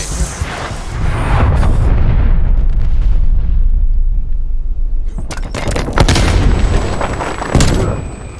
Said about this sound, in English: Artillery targeting detected. Call, incoming artillery.